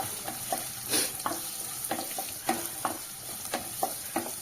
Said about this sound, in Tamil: இந்த எண்ணெயிலே நல்லா வறுத்துக்கணுங்க